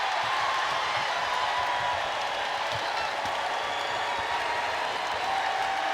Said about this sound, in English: And this crowd loving the effort.